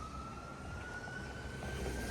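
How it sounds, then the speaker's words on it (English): A steady siren wail sustained over a broad city traffic rumble on Dundas Street West in Toronto, fairly distant and constant throughout. "It's not a video in Toronto without sirens"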